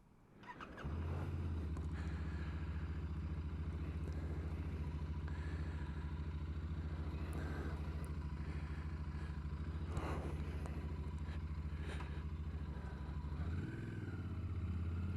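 A matte-finish 2021 Royal Enfield Interceptor 650 motorcycle pulls away after a soft start, its steady twin-cylinder engine drone holding loud and close for over ten seconds, then shifting pitch near the end as it changes gear.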